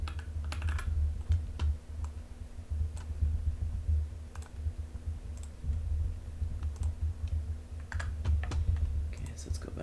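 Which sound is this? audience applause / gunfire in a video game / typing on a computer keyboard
typing on a computer keyboard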